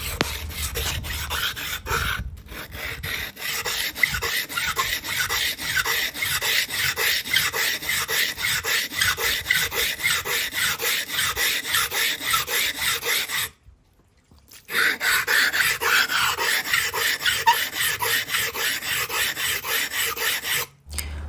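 A steel electric planer blade is rubbed back and forth on a large water-soaked whetstone with a coarse 120 and a fine 240 grit side. The close, steady rasping strokes repeat continuously with one brief pause.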